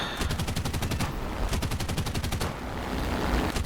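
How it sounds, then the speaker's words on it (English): Rapid aircraft cannon and machine-gun fire from a Ki-61 fighter in War Thunder, two long loud bursts of dense rhythmic shots over a steady engine drone, with no talking. "That was some poor shooting on my part."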